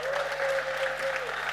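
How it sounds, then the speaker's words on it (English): Dense, steady applause from a large summit audience fills the whole stretch, sustained and evenly loud with no gaps, as the crowd cheers a slackliner who walked between the Emirates Towers. "Let's give him a big round of applause again"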